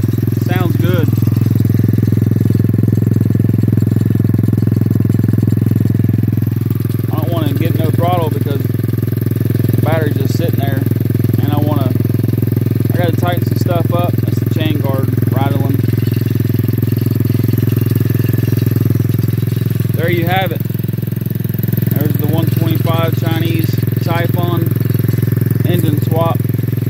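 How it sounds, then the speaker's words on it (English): A new 125cc engine in a racing quad idles steadily and loudly throughout, a constant close mechanical drone while someone talks over it. "hit the button. It's running good. Sounds good."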